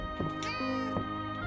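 A cat meows in the video game Fields of Mistria, a few short synthetic mews close and clear, one drawn out in the middle, with no talking.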